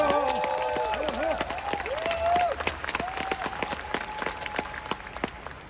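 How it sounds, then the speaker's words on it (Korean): An audience at a leadership training seminar in Bangkok applauds in thanks, the clapping running steadily beneath a singing or sustained voice and music, tapering slightly toward the end. "우리 리웨이에 다시 한번 감사의 박수 보내시죠"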